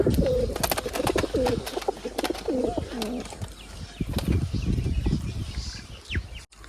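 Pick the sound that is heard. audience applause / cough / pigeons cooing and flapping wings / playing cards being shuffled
pigeons cooing and flapping wings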